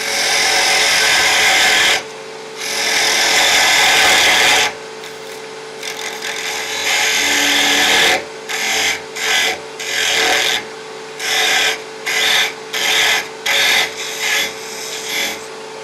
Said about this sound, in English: rub the bevel, get a cut, and then raise the handle as you go towards the centre